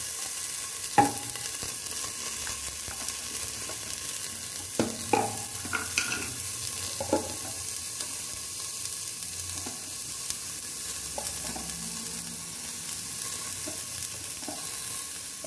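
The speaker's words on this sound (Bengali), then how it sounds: "তার জন্য একেবারে এগুলো ভেজে নেবো।" Vegetables frying with salt and turmeric, a constant close sizzle broken by scattered scrapes and knocks of a spoon stirring in the pan, no talking.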